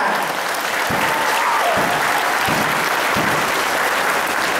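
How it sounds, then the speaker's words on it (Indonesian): Students applaud at a university faculty open house presentation, a broad wash of many hands clapping steadily and fairly loud from start to finish, with no talk over it. "Tepuk tangan untuk kalian"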